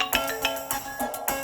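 A phone on speakerphone sounds a repeating electronic ring, a quick pulsing tone tapping out several beats in under two seconds, close and clear with no talking.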